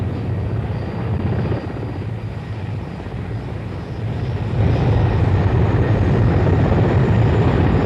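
Several military helicopters landing together in formation, a loud continuous rotor thump and turbine roar that swells louder toward the end, with no voices over it.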